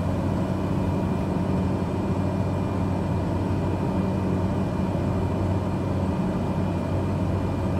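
Cessna 208 Caravan turboprop in Microsoft Flight Simulator drones steadily as the throttle is eased back on a straight-in landing approach, a constant, even engine hum with no talk over it.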